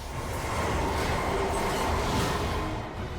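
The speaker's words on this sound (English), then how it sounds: "Him flying on underneath the subway, or underneath the monorail." Monorail train rumbling past in an action scene from the film Batman Begins, a steady dense rolling roar with metallic rail noise and no speech.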